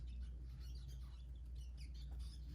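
Faint, high-pitched squeaks and chirps repeat irregularly over a low steady hum, like tiny young rodents calling.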